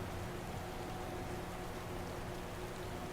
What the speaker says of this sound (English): Man, just the sound of that rain.